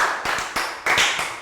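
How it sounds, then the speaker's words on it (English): A classroom of young pupils gives a short burst of applause during a science lesson, with a few loud, uneven claps landing in quick succession. "Round of applause for Lakgau."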